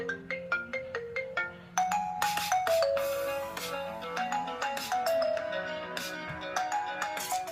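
An iPhone ringtone plays as a bright, melodic sequence of chiming notes, starting with a repeating pattern and building into a fuller, busier tune, clear and close with no talk.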